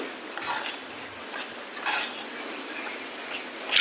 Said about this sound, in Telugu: బొంబాయి రవ్వ అనేది ముందుగా వేయించుకుంటామండి రవ్వ కేసరి కోసం దూరగా వేయించుకుని